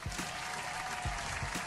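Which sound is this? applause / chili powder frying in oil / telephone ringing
applause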